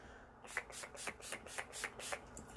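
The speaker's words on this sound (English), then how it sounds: "You just kind of spray it on like the primer." A makeup setting spray misted onto a face in a rapid series of short, breathy pumps, about eight quick sprays in a regular rhythm, close and soft, with no talking.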